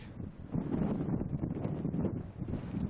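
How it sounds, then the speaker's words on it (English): Gusty wind buffeting the microphone on a trail at Red Rock near Las Vegas, a low rumbling roar that swells and eases without pause, with no one speaking. "Pretty windy again."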